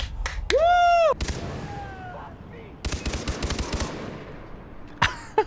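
Automatic weapon fire aimed at a village in Far Cry 3: a rapid burst of sharp shots mid-clip and a couple of louder blasts at the end, mixed with a rising whistling tone and other game effects.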